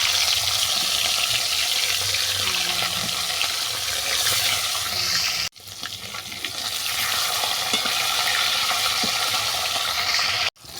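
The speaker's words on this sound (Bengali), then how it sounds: "তেল গরম হয়ে গেছে, এবার মাছটাকে আমি ভেজে নেব।" Hilsa fish frying in hot mustard oil in a wok, a loud, continuous close-up sizzle with crackling spatter, broken by two brief drop-outs.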